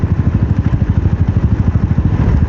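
A Royal Enfield Thunderbird 350X motorcycle rides along, its engine thumping in a fast, even low pulse that stays loud and close throughout.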